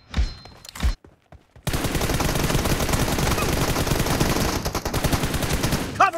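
Rapid automatic gunfire in a mobile team deathmatch shooter played on a Realme X7 Max, a few isolated shots at first, then a dense, loud, continuous burst of firing that runs to the end.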